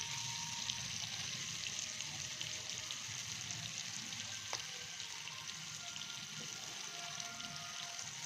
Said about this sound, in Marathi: मंद आचेवर आपण तळून घेऊया 5 मिनिट